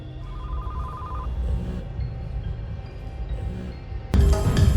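Phones ringing and buzzing across a dance floor in the Ready or Not video game, a faint ring tone over a low steady rumble of music, with a louder burst toward the end.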